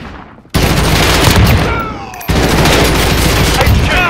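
Continuous sentry gun fire in Modern Warfare, a loud dense stream of rapid automatic shots that starts abruptly, briefly dips, then surges again amid battlefield din, with voices in the background.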